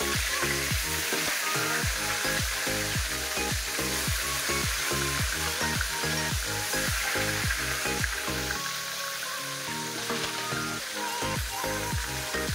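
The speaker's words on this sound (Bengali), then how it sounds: "তো তেল গরম হয়ে গেছে, কই মাছগুলো কই মাছগুলো দিয়ে দিচ্ছি।" Koi fish frying in a generous amount of hot oil give off a loud, continuous sizzle with rhythmic bubbling crackles. The sound is close and steady, with no talking.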